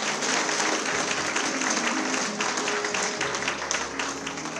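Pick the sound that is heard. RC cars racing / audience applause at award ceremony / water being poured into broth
audience applause at award ceremony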